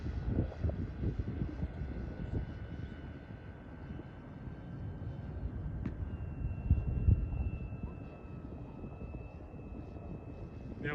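A 107-inch VQ/Nexa Pilatus PC-6 Turbo Porter RC model sweeps past low with a steady turbine-like drone that holds throughout, moderately loud at middle distance under outdoor wind noise.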